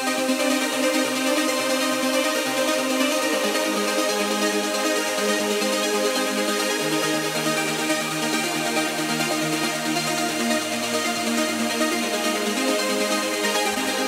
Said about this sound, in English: And when you listen to all synthesizer all together, this would sound like this.